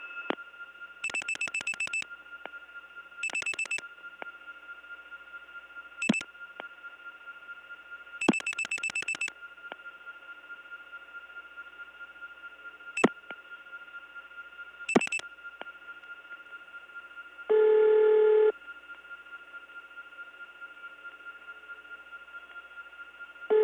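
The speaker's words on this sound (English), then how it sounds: "let's call a ringing number in Cleveland." Repeated electronic ringing bursts on a Cleveland phone line, uneven short St. Thomas type rings separated by pauses, over a steady line hum, with a louder tone burst near the end, early 1979.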